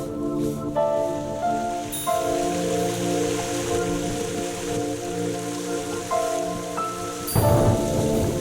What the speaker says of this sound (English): the rain's coming down again now